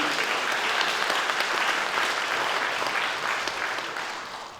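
Audience applause at a charity concert for a retirement home, dense steady clapping from a hall crowd filling the room, slowly tapering toward the end.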